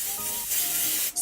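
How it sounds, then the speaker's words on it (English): A short hairspray aerosol hisses close by, a brief gap, then another quick hiss. "Lift it like right by the roots and we're just gonna"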